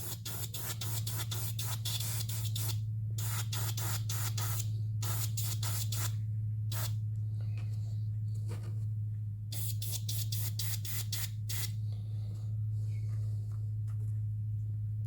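Short bursts of aerosol spray paint hit the antennas of a scale model of a Project 955 Dolgoruky submarine. The hissy spurts come in quick repeated clusters with pauses between them, over a steady low hum, with no talking.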